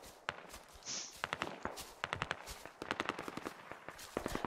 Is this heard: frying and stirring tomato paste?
no